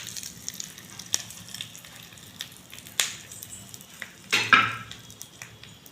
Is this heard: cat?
no